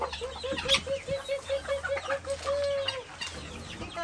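Farm chickens eating corn cluck in a quick, repeated series of short notes close by, over a low steady background hum.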